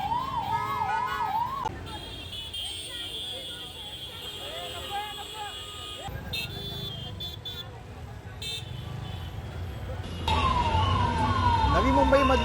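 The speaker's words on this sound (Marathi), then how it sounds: "वाहतूक कोंडीमध्ये एक रुग्णवाहिका सुद्धा अडकलेली होती, त्याची दृश्य आपण स्क्रीनवरती बघतो" An ambulance trapped in a highway traffic jam in Navi Mumbai sounds a wailing, rising-and-falling siren, loud at the start and again near the end, amid engine rumble, horns and other vehicle sirens.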